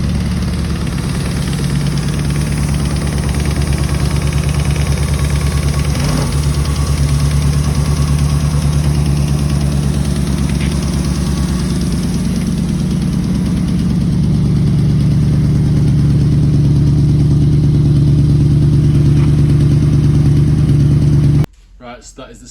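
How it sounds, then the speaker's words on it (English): A classic Stag V8 car engine idles steadily at close range, a loud, even low rumble that holds for about twenty seconds before cutting off abruptly. "So that is the Stag running"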